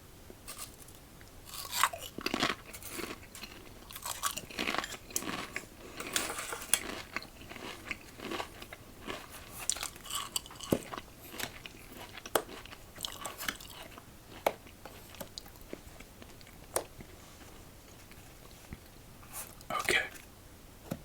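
Hot Sauce Lay's potato chips crunched and chewed close to the mic in a quiet ASMR setting, irregular crisp bites and crackly chewing bursts throughout, soft and intimate, with faint low murmuring.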